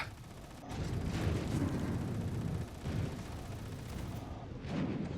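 Ship weapons firing in the Star Citizen space combat game, with heavy rumbling booms and bursts that surge and subside over several seconds.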